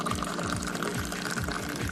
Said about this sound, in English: there is an art form as well to pour in Moroccan tea. The highest, the better.